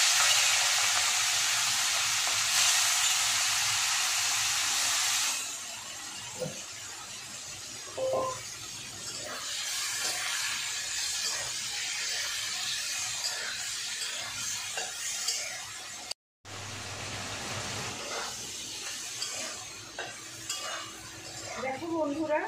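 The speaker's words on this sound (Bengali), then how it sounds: "তেলটা তো গরম হয়ে গেছে, আমি এবার চিংড়ি মাছটা ভেজে নিচ্ছি" Prawns frying in hot oil give a loud steady sizzle at first that settles into a softer crackle, with a few utensil clinks and stirring scrapes nearby and a brief break in sound partway through.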